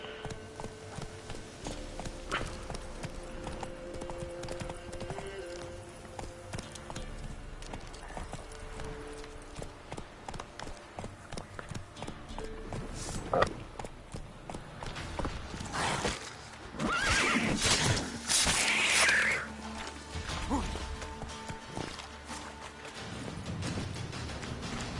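Geralt's horse Roach in The Witcher 3: Wild Hunt, hooves clip-clopping in a fast steady rhythm across the ground, then a loud whinnying neigh breaking out near the end over the galloping, with faint game ambience beneath.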